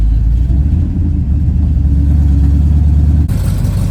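A large 383 big block engine in a 1974 Dodge W100 truck rumbles loudly and unevenly close by, running roughly, with a deep, rough low-end throb that shifts slightly near the end.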